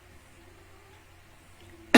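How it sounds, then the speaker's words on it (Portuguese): A single sharp cough from a dry throat, loud and close, bursting out at the very end after near-silence. "Me desculpe, a tosse tem hora que a garganta muito seca."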